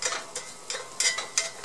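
A spatula scrapes repeatedly against a pan, working loose the crust of a cheese pizza with a crust made of cheese, in quick rhythmic strokes with a faint sizzle, close and clear.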